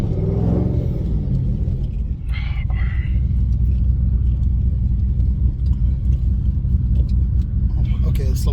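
An 800+ horsepower Shelby GT500 rumbles deep and loud from inside the cabin during a ride, a continuous heavy engine roar with people's voices heard over it.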